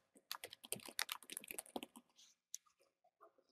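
Quick bursts of typing on a computer keyboard while entering text for a PowerPoint slide, a dense run of close, crisp keystrokes followed by a few sparser taps and a pause.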